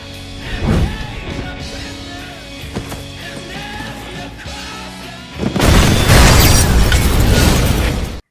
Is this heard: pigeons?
no